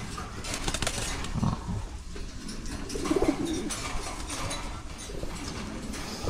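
Pigeon squabs in a loft coo softly and steadily, low murmuring calls with a faint rustle of wings, heard at close range with no talking.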